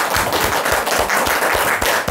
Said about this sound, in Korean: 오늘 아침 격려와 용기와 축하의 박수를 보냅니다